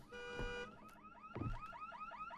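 A car alarm sounds in a garage in the horror video game Visage: a quick repeating electronic chirp pattern, fairly faint, with a couple of low thumps mixed in.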